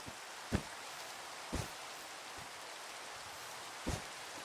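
Steady rain falls in the RealmForge video game, a constant broadband hiss with a few soft thuds spaced through it and no voices.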